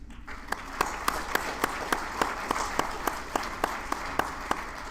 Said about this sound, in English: Please stand and applaud once more Mrs. Anne-Marie Circle